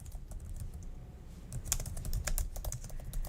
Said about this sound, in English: you're just going to start typing.